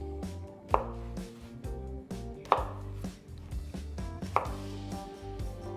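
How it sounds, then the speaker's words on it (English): A knife chops thick rings into quarters on a cutting board, with a steady series of crisp, close thuds and no talk, while prepping ingredients for grilled flanken-style beef short ribs. "cut some pretty thick rings and then cut that into quarters"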